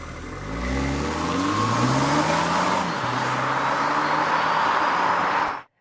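A Dodge Hornet R/T Plus hybrid accelerates hard off the line in PowerShot mode, its engine revving up through rising gears in a strong, close, continuous roar for several seconds before cutting off abruptly.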